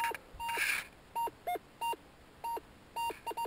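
A metal detector sounds over a buried coin at a treasure-hunting dig, giving a series of short, close electronic beeps in an uneven rhythm against a quiet outdoor background.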